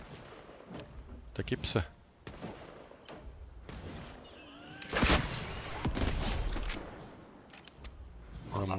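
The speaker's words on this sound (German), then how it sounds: "Hier hinten sind die Leute immer noch schießen." Gunfire from a Fortnite match, bursts of shots and impacts scattered through the clip, loudest in a dense cluster midway, mixed with game effects while players talk over it.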